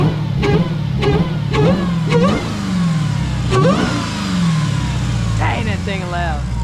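A Dodge Hellcat Jailbreak fitted with a loud JLT intake revs several times in close succession, each blip rising and falling, with people talking over the engine.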